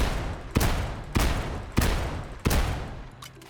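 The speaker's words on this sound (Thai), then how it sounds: "อันนี้คือลูกซองที่ใหญ่เลยนะ" Large shotgun firing in the video game Outlawz, four loud booming blasts spaced about a second apart, each decaying before the next, with no talk.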